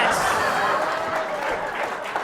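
Applause from a comedy club audience for a volunteer after a magic act, steady and moderate in volume with a few chuckles mixed in, lasting only a couple of seconds.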